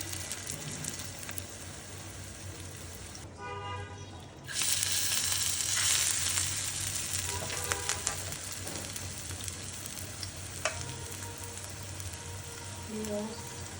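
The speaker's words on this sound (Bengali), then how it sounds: "মসুরি ডাল বাটা দিয়ে বড়া করছি।" Masoor lentil paste fritters with coriander leaves and green chili fry in oil over low heat, a steady close sizzle that grows louder and denser partway through as more batter hits the pan.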